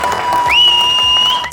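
Guests burst into a brief round of clapping, a dense patter of applause mixed with a sustained whistling tone that rises partway through and lingers.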